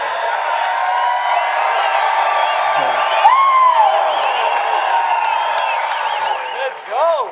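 A crowd at a UFC 247 press conference for Jones vs Reyes cheers and whoops, with rising whistles and shouts over a constant murmur of voices and scattered clapping.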